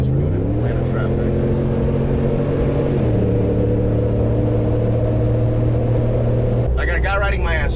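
A converted ambulance drives through Atlanta traffic, its engine holding a steady loud drone with shifting tones as it changes speed, and a voice briefly enters near the end.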